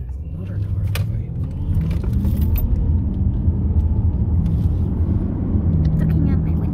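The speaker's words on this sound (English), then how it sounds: "There's another car behind me." Continuous low rumble of a car driving near a bridge at night, with another car following close behind, a steady drone with scattered knocks and faint background murmurs.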